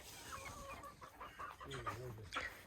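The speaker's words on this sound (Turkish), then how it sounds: "Tavuklar da yiyor" Chickens clucking softly nearby while feeding in a village garden, a few short calls rising over quiet background noise, with faint voices.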